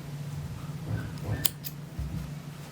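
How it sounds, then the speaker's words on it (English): Scissors snip through yarn close up, with a couple of quick crisp cuts against a steady background hum. "you can go and cut your yarn now"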